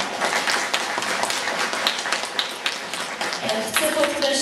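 Audience applause at a community gathering in Filipów, Poland: dense, steady clapping throughout, with some voices mixed in toward the end.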